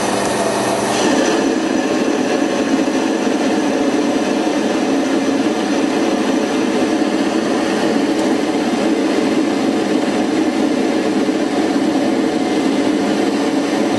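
Mini lathe cutting metal on a tailstock part, taking about a millimetre and a half per side at a coarse feed: a steady, dense, grinding drone that runs unbroken and fairly loud throughout, with no voices.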